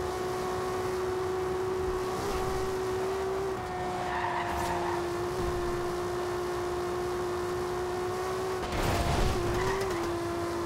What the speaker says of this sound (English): I'm driving the new Supra.